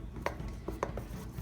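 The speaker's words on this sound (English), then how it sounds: "I'm gonna mix this up." Sourdough dough is stirred in a bowl, with a few faint, quiet knocks and scrapes of a utensil against the bowl at irregular intervals.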